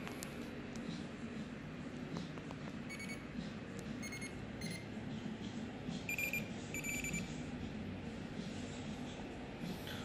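A Lowrance fish finder's fish alarm gives a few short, high electronic beeps in scattered bursts over a quiet outdoor background on a fishing trip.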